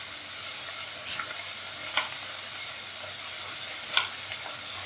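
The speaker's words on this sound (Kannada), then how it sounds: "ಈರುಳ್ಳಿ ಬೇಯ್ತಾ ಇದೆ" Onions fry in a pan of oil for methi pulao, giving a steady, soft sizzle with a few sharp scrapes of stirring spaced about two seconds apart. No one speaks.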